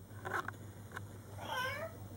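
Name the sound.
child imitating cat meow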